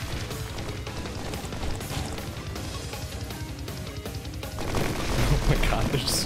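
Missile launches and explosive gunfire in a chaotic video game battle, a dense continuous barrage of booms and rapid shots that swells louder toward the end.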